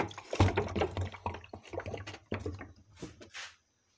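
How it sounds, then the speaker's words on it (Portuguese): Water gurgles and splashes irregularly as a filled PET bottle is turned upside down into a cut pot to form a chicken waterer, close and moderately loud, fading out into silence near the end. "vou colocar o vaso cortado aqui e vamos virar aqui para ver se vai dar certo o nosso bebedouro"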